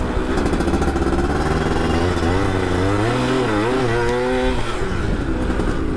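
A 2000 Yamaha F1ZR two-stroke motorcycle fitted with a Chan Racing aftermarket muffler revs up close and loud, its raspy exhaust climbing and wavering in pitch across a few seconds before dropping back, with no talk over it.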